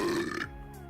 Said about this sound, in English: What, burping isn't normal?